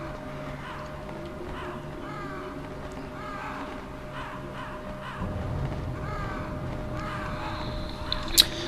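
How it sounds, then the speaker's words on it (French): Crows cawing in the video game Metal Gear Solid, a run of repeated harsh caws in a steady rhythm over a low, constant ambient drone, moderately loud with no talk. "Des corbeaux, c'est pas bon signe."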